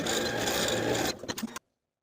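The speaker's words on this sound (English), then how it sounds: "overlap the two short ends, zigzag back and forth to secure" A sewing machine zigzag stitching back and forth across overlapped elastic ends, a dense close whir for about a second that breaks into choppy bursts and then stops dead into silence.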